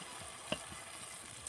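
Pancake batter poured into a pan with a tablespoon of hot oil gives a soft, faint sizzle with one brief sharp clink, quiet and steady throughout.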